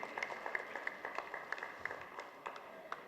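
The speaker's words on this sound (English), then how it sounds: "Can we once again have a great round of applause" An audience at an AI hackathon and summit claps for a few seconds, a scattered patter of individual claps that sounds faint and distant.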